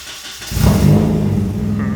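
Rebuilt engine in a Nissan 240SX cranking briefly and catching, then settling into a steady, rumbling idle close by, with no talking over it.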